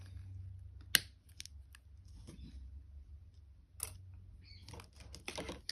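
Wire cutters snip beading wire for a wire-wrapped jewellery link, two sharp close clicks separated by a few seconds of quiet handling noise.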